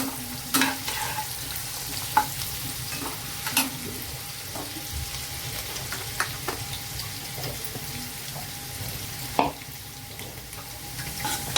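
Onion frying in a pan with curry leaves gives a steady soft sizzle close by, broken by occasional sharper pops and light stirring clicks.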